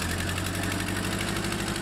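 A GAZelle van engine runs steadily at idle with a low, even rumble and a faint rhythmic knock, close and continuous throughout.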